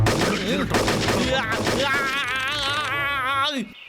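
Cartoon bears fire guns in an animated forest comedy, with rapid popping bursts mixed with whiny, warbling cartoon voices and effects throughout.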